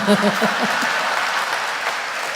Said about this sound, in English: I'm clearly noticing who is clapping and who is not